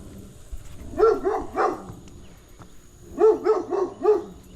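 A dog barks in two separate bursts of three or four sharp barks each, moderately close, with quiet background between the bursts.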